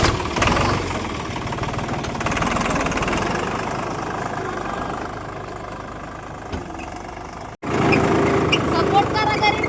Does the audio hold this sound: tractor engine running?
yes